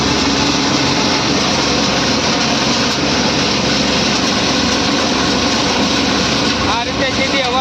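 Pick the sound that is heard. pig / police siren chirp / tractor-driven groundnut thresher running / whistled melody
tractor-driven groundnut thresher running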